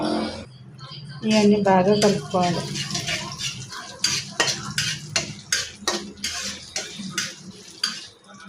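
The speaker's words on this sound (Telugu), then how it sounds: "తర్వాత జీలకర్ర, ఎండుమిర్చి, కరివేపాకు, ఎల్లిపాయలు ఇవన్నీ బాగా కలుపుకోవాలి." Cumin, dried chilies, curry leaves and garlic are stirred in a pan with a utensil, producing close, repeated metallic clinks and scrapes in an uneven rhythm, with a brief voice near the start.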